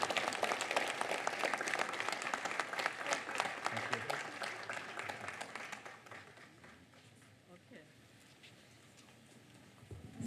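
Relatives and guests at an outdoor memorial dedication give a round of dense applause that gradually thins and fades to scattered claps, with faint voices underneath.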